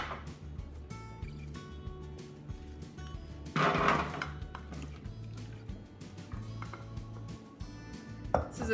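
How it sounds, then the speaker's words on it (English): Halved Brussels sprouts are set flat-side down onto a metal sheet pan, making faint scattered taps and clatters, with one louder cluster of knocks midway and a sharp click near the end. "what I'm doing is I'm just laying the flat part onto the sheet pan"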